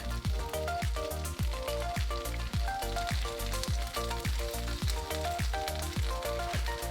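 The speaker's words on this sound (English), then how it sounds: "place the closed bread over the hot oil, red side down, and slightly fry the underside for about 1 minute" Pambazo bread, sauce-brushed red side down, frying in hot oil in a pan, giving a loud, steady sizzle with crackling throughout and a rhythmic thumping pulse running underneath.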